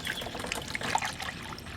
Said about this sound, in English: I'm going to use a funnel and fill up the rest of the bottle using the concentrate antifreeze.